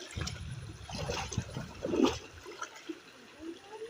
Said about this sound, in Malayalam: തോട്ടിൽ അത്യാവശ്യം വെള്ളമുണ്ട്.